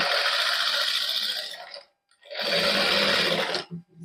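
Sewing machine stitching fabric with fine lace and multicolored thread, running in a steady whirring burst, a short pause, then a second sustained burst close up, with no talk.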